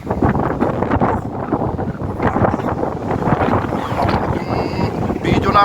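Strong wind roars steadily across an exposed rock formation, buffeting the microphone with loud, continuous broadband rumble and gusts throughout.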